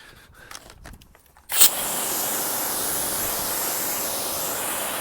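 A Kranzle X-Line A15TST pressure washer starts after a quiet pause, then a loud, steady high-pitched spray hiss continues close by without letup.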